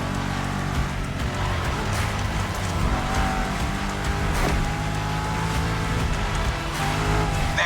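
Shelby GT500 muscle car engine in The Crew Motorfest, a loud steady roar with a deep low rumble running the whole time, alone with no talk.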